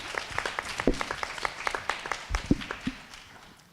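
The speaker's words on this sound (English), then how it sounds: "Yeah, clap it up." A small audience applauds with distinct individual claps, sparse and fairly close, trailing off toward the end.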